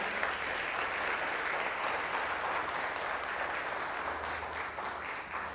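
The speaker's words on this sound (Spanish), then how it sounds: "Dale un aplauso fuerte a Jesús." A church congregation applauding loudly during a Spanish-language service, a sustained, dense wall of clapping from many hands that holds steady throughout with no speech over it.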